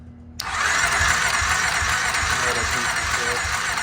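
Kawasaki KFX700 ATV engine, run with starting fluid and low on compression, catches after a short crank and roars into a loud, steady, rough-edged run that holds close and continuous for the rest of the clip.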